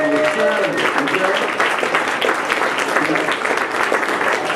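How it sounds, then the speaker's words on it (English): A crowd gathered at an office launch claps steadily for a guest, the applause dense and sustained throughout, with some voices mixed in. "let's give Mike a great round of applause for coming out on the Saturday"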